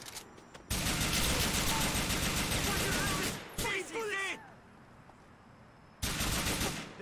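A GTA IV shootout breaks out: bursts of rapid automatic gunfire rattle loudly, then pause briefly before a final burst. Voices shout and talk between and under the shots, with some echoing cries in the middle.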